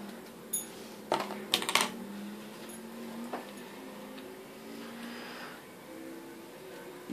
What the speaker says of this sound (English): I'm just going to snip a bit off.